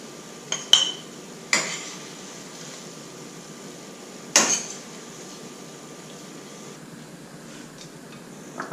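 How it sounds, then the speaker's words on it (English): A bowl is flipped over onto a plate in a home kitchen, with a few sharp ceramic clacks and knocks spread across a quiet background hum, each followed by a brief ringing decay. "Turn the bowl over."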